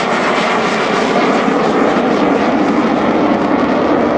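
An Alpha Jet makes a slow, low pass with its flaps extended at an airshow, giving a loud, steady engine roar that holds without letup throughout.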